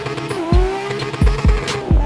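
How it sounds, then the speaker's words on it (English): Nissan RB engine screams at high revs as the car drifts, its pitch dipping and recovering repeatedly with sharp low thumps and tire noise, loud and close. "You can hear that RB just screaming as he's ripping through here on Drift Park."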